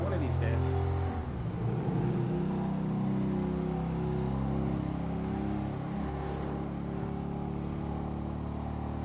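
A car engine revs and drones steadily in the video game GTA V, its tone shifting as it accelerates, loud and continuous throughout with a sharper burst near the start.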